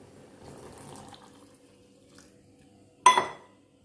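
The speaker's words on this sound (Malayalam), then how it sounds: "ഇനി ഇതിലേക്ക് നമുക്ക് പാലൊഴിച്ച് കൊടുക്കാം." Milk is poured into boiling masala tea. After a stretch of quiet, low simmering, a short, sharp splash of liquid rises and fades near the end.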